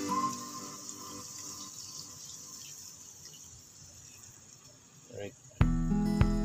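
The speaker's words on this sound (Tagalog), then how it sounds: "Lagyan natin ng konting tubig." Water poured into a cooking pot in a nipa hut kitchen, a soft trickle through most of the stretch, then a sudden louder splash and ringing slosh near the end, with voices present.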